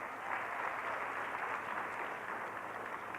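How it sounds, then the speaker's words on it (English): Audience applause at an arts council event sounds as a steady, fairly distant wash of clapping, soft and even throughout with no distinct voices. "Let's give him another round of applause."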